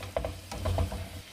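Fish pieces and chopped capsicum frying together in a pan for Kerala-style chilli fish, with brief scraping stir clatters over a low steady sizzle, close by.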